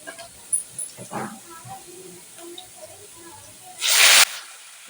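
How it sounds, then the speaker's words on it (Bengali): Mixed leafy greens drop into hot oil with fried onions, setting off a loud, sudden burst of hissing sizzle near the end after quieter moments with faint background voices. "পেঁয়াজগুলো ভেজে নিয়েছি এখন দিয়ে দিচ্ছি পাঁচ শাক"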